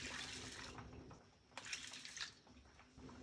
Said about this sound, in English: I'm adding sufficient water to wash them thoroughly.